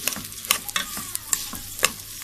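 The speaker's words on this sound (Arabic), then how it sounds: "كده الرز يتشوح بالسمنه كلها" Rice and vermicelli sautéing in ghee, with repeated scraping stir strokes over a soft, steady sizzle, close up.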